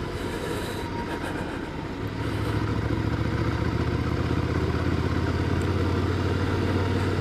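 Ducati Scrambler 800 Icon motorcycle engine starts about two seconds in, then settles into a steady, loud idle with a low throbbing rumble that holds until the end, heard alone without talk.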